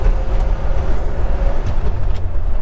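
A 1952 Ford F1 pickup cruises in high gear, its engine a steady low rumble with road and cabin noise filling the space around it, continuous and close with no talking.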